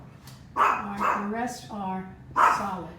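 A dog barks a few times nearby, sharp and repeated, from indoors while a person talks over it.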